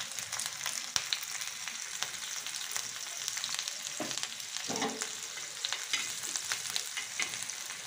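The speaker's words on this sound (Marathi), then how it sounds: "आता आपण हिरव्या मिरचे तुकडे टाकूया याच्यामध्ये." Pieces of green chilli sizzle and crackle in hot oil in a pan, a steady close frying hiss broken by a few sharp pops and stirring scrapes, with no talking.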